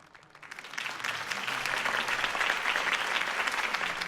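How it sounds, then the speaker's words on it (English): A crowd in Batman: The Telltale Series breaks into applause that swells after a quiet start and keeps going steadily, loud and dense with many hands clapping. "could have heard that applause"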